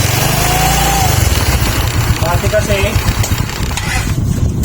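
A Rusi Rush motorcycle engine runs at low RPM under light throttle, giving a loud, steady, close-up putter with slight rises in revs, while someone talks over it.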